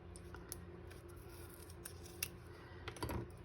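Non-stick scissors snip through foam tape at a card-making desk, giving several sharp close cuts with a crisp double snip near the end.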